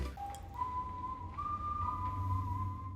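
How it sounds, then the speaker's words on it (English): A clear, thin wolf whistle from the film Puss in Boots: The Last Wish holds steady tones that step slightly upward, alone over a low hum. "The wolf whistle was one of those thematic elements where you hear it and you know that he's close."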